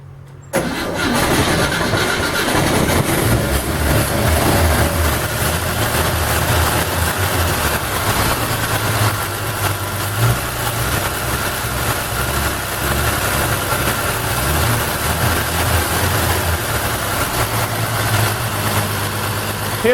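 A 1952 Chevrolet Styleline's engine catches after cranking, then settles into a steady, loud, close idle that runs evenly throughout.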